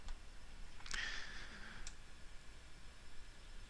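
A single sharp computer mouse click selects a web link, with a brief second tick about a second later, heard faintly over quiet room hiss with no talking.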